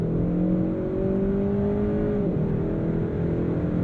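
A 2022 Kia K5 GT engine pulls hard at full throttle in the mid-range, a loud, steady rising drone heard from inside the car with a brief dip near the middle, no talking.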